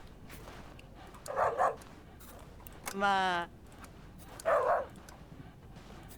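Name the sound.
dog barking and whimpering in video game Yes Your Grace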